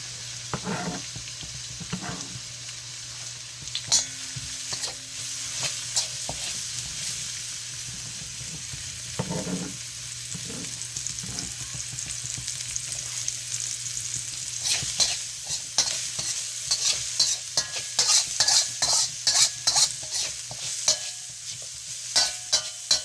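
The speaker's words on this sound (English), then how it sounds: "let's get that garlic going for a minute. We're going to put in our onions, shallots" Garlic, onions and shallots frying in a pan, a continuous close sizzle broken by repeated scraping and clattering stirs that grow busier and louder toward the end.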